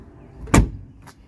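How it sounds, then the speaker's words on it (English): A 1984 Mercedes-Benz 300TD wagon's door is shut once, a single solid, close thump with a faint click after it. "Check how the door shuts."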